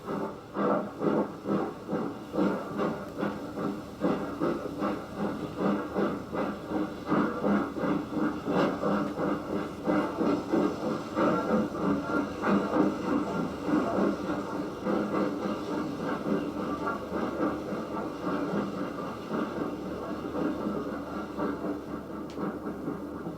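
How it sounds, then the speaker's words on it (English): A gramophone record of railway engine noises plays quietly: a faint, steady chuffing and hissing rumble with rhythmic beats, continuous and distant in tone, with no voices. "you should take pleasure in listening to a gramophone record of engine noises"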